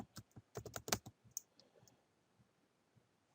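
Keystrokes on a computer keyboard while typing a web search: a quick burst of sharp clicks in the first second, then a few scattered, fainter taps trailing into quiet.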